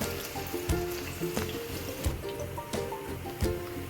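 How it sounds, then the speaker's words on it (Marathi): Onion sautéing in hot oil in a pan for a Maharashtrian mixed vegetable dish, a steady close sizzle with occasional sharper crackles and a few clinks of a spoon against the pan. "कांदा आपण चांगला परतून घेऊया"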